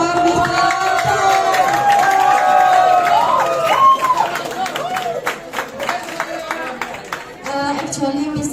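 An audience at an English course performance show claps and cheers for a teacher, with crowd applause swelling under an amplified speaking voice and lingering after it.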